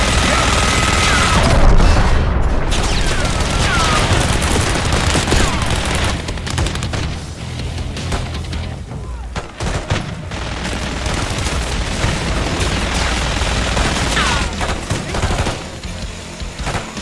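Long stretch of minigun fire and heavy combat in the Call of Duty Black Ops 6 video game, a loud, unbroken roar of rapid shots mixed with booming impacts and explosions.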